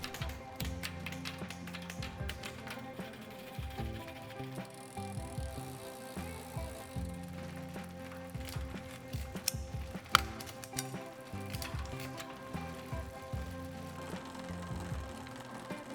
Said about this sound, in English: Test by shifting to a larger chainring and then back to a smaller chainring.